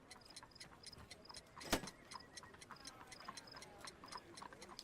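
A homemade ticking time bomb in Sherlock Holmes: The Devil's Daughter gives a steady, quick series of faint metallic ticks, with one louder click or knock near the middle.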